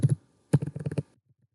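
Keys on a computer keyboard click close by: two quick taps, a pause, then a fast burst of about six keystrokes, all in a quiet room.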